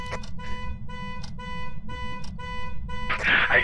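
A car alarm in the horror game Phasmophobia sounds in a series of even, pulsing tonal blasts over low background rumble, followed near the end by a louder noisy burst as a voice cuts in.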